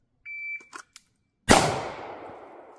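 A single pistol shot, fired with the thumb safety engaged, cracks sharply and rings out in a decaying tail after a few short timer beeps.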